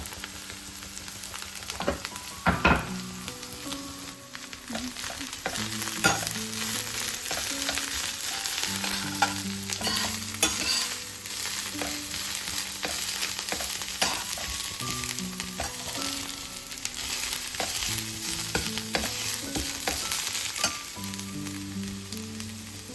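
Coriander frying in a pan gives a steady close sizzle with occasional stirring clatters and scrapes throughout, no voices.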